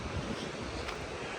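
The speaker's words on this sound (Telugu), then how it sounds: "ఐ హోప్ మీకు ఆ వాటర్ సౌండ్ క్లియర్గా చాలా పెద్దగా వినిపిస్తుందని అనుకుంటున్నాను." Bambarakanda waterfall, also called Bombaru Ella, roars as a steady, loud broadband rush of falling water with no break, heard close.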